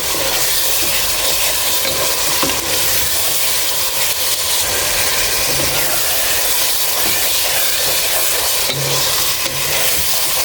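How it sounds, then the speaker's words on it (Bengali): Fish frying for fish khichuri, a loud dense hiss of hot oil running steadily and close throughout, with faint scraping of stirring underneath. "আমি এবার সবগুলো মাছ সুন্দরভাবে কষে নিচ্ছি"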